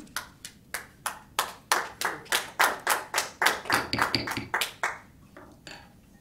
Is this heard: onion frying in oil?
no